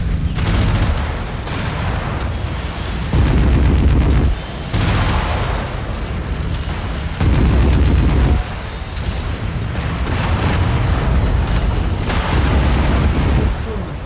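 Heavy mech weapons firing in MechWarrior 5 gameplay, loud bursts of rapid cannon and autocannon fire with booming impacts in repeated volleys separated by short pauses.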